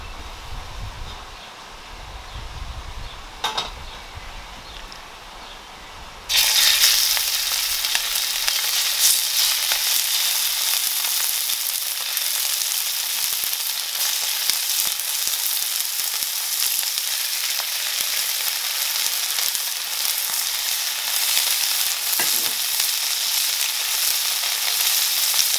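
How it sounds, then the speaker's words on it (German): Chicken searing in a few spoonfuls of olive oil in a pan for couscous. The hiss starts quietly, then swells into a loud, continuous crackling sizzle that holds steady, close up, with no talk. "brate das Hähnchen ungefähr 5 Minuten lang rundherum scharf"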